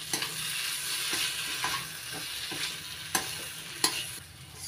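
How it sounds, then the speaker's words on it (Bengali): Banana flower and grated coconut sauté in a pan, a constant soft sizzle broken by repeated scraping strokes of a spatula, with a few sharper clinks near the end; close up, no voices. "এবার কষিয়ে নেব 2 মিনিট।"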